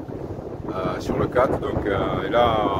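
Strong wind of about 20 knots rises in a harbour, its steady broadband rush and gusting buffeting the microphone, while someone speaks briefly over it.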